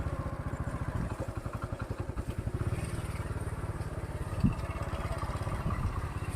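A motorcycle engine idles steadily at a bike parking area at Dhauli Shanti Stupa in Bhubaneswar, Odisha. The loud, close, even throb continues throughout, with one brief metallic clank partway through.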